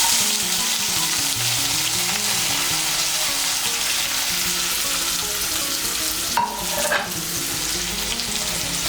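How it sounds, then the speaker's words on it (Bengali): Chopped onion fries in hot oil with a loud, dense, continuous sizzle, briefly marked by a short scrape or clatter near the end. "পেঁয়াজ কুচিটাকে মিশিয়ে নেব তেলের সঙ্গে। মিশিয়ে নিয়ে লাল করে ভেজে নেব।"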